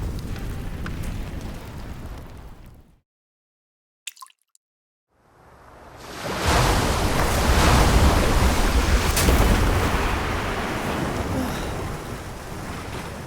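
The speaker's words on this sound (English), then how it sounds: "the sea churns without the wind. Terrifying, giant waves rise." Churning sea with giant waves in the Love and Deepspace video game, a loud roaring surf that fades out into near silence, then swells back into a sustained heavy wash of water.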